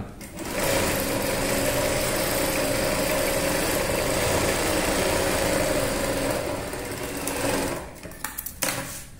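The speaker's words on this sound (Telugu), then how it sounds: "నేను స్టిచ్ చేస్తున్నాను దీన్ని." A sewing machine runs steadily for about eight seconds, stitching a semi patiala pant in a ladies' tailoring class, a loud continuous whirring motor that stops near the end with a few brief clicks.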